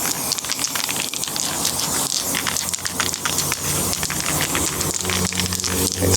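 Sealant sprayed outdoors onto a wooden van window frame, a continuous loud hissing spray with uneven pulses throughout.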